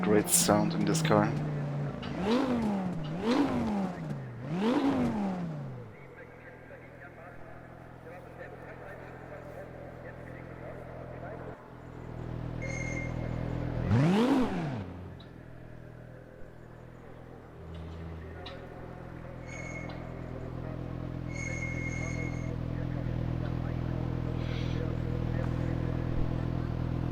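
An Audi TT RS VLN race car in the RaceRoom racing game blips its engine in several sharp rising-and-falling revs, followed by a lower steady drone with another rev later.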